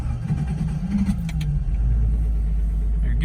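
A 1977 Datsun 280Z is cold started at close range, with a brief whir as it cranks and then the engine catching into a steady, loud low rumble at idle.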